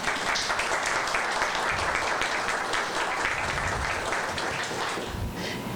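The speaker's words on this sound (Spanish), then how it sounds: "Ya hemos aplaudido" An audience applauds at the closing of an academic conference, a full sustained burst of clapping from many people lasting nearly six seconds and tapering slightly at the end.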